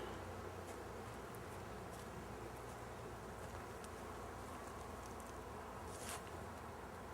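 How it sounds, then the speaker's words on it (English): Honey bees buzz in a dense, steady swarm as they are blown out of honey supers, a continuous close drone with scattered louder passes of individual bees and a faint background hiss, no voices. "now I'm going to blow all the bees out of the honey supers"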